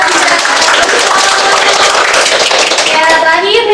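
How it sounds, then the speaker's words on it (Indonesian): A small group clapping hands during a group therapy activity session, loud close patter of claps with voices talking over it throughout. "Iya tepuk tangan."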